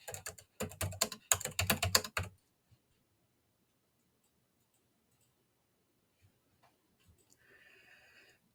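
Quick bursts of typing on a computer keyboard fill the first couple of seconds as close, crisp clattering keystrokes, followed by near silence with only a few faint clicks near the end.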